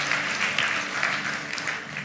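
A church congregation claps during a sermon, a loud, continuous round of applause from the whole audience with a faint voice underneath.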